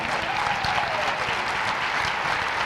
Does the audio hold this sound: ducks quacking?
no